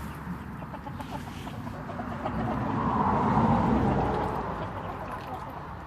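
Chickens cluck softly in a barnyard, a low murmur of fowl voices rising to a fuller swell of clucking midway before easing, under faint background noise.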